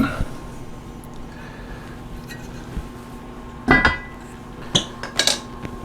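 Metal lid set on a pot of homemade baked beans, a few close clinks and clatters of cookware over faint background hum.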